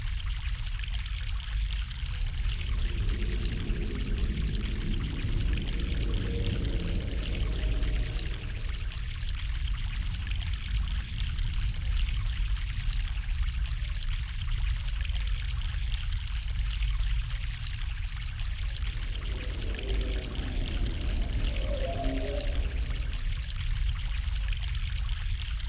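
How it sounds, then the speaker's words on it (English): Stream of fresh mountain water flowing steadily, a continuous close rush with occasional splashing pours, no talk. "Fresh mountain water."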